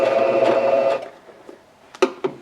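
A sewing machine stitching the gusset of a handbag with a 1/4 inch seam whirs steadily for about a second, then stops, followed by a couple of sharp clicks and taps nearby.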